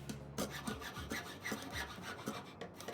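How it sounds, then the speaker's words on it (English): Villagers in the Kingdoms Reborn video game hammer and rasp at building work, a steady run of close knocks and scraping strokes layered over a continuous busy bed of sound. "You can hear them hammering around and stuff"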